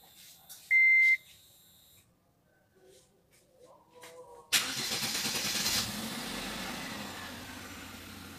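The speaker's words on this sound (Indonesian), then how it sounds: "Kita nyalain dulu mobilnya." A Wuling Confero car being started during an oil change: a short electronic beep, some quiet clicks, then the engine cranks and catches into a steady close idle that keeps running.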